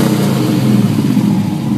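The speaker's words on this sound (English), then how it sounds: "Listen to the engine roar, guys." Engine of a 2007 Chevrolet Trailblazer SS, a loud, close, continuous low rumble with a slight rise and fall as it revs briefly, no voices.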